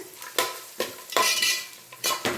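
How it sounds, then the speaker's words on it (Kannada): Onions frying in oil in a pan while being stirred, for tomato rice: a spatula scrapes in several loud, close bursts over a soft sizzle, with no talking. "ಈರುಳ್ಳಿ ಬಣ್ಣ ಸ್ವಲ್ಪ ಚೇಂಜ್ ಆಗಲಿ ಅಲ್ಲಿ ತನಕ ಈ ರೀತಿ ಫ್ರೈ ಮಾಡೋಣ"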